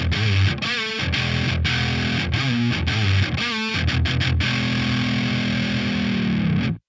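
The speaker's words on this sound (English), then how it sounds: "going through the clean tones and the high gain with the different pickup positions" A heavily distorted, high-gain Aria Pro Jet baritone electric guitar on the neck pickup plays chugging low-tuned riffs and sustained chords with short pauses, then rings out and cuts off.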